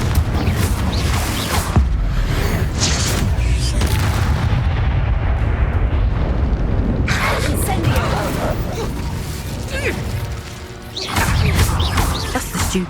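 Confringo blasting spell going off in Hogwarts Legacy, a loud continuous crashing, booming game-combat roar with explosive bursts throughout, layered under spoken spell shouts and game voices.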